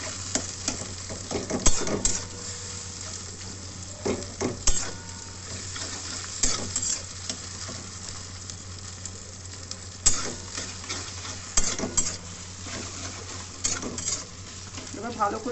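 Chopped tomato with garlic and ginger paste sizzles in a pan for chicken pilaf, a steady frying hiss broken by repeated louder scrapes and clinks of a spoon stirring against the pot.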